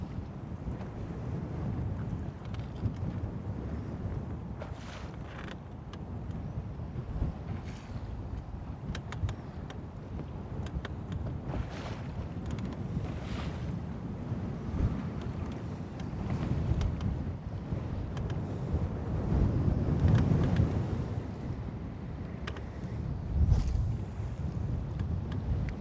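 Steady wind buffets the microphone and rushes over open water around a small fishing boat, with low rumbling gusts that swell louder near the end and no voices.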